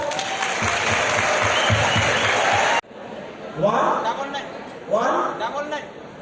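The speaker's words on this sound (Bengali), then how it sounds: "ওর জন্য হাততালি দাও একটা।" Audience applause at a college freshers' welcome program, a dense burst of clapping that cuts off abruptly, followed by talk with chuckles from the crowd.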